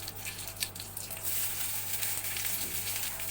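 Mustard seeds, urad dal and curry leaves fry in hot oil in a kadai, a soft steady sizzling hiss with faint scattered pops that thickens after the first second.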